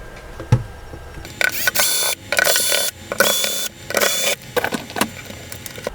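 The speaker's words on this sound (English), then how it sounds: "let's flip this baby around and let's start ripping some screws" Screws being worked loose on an AV Famicom console, a series of short sharp mechanical clicks and ratcheting bursts close up, in uneven clusters with brief pauses between them.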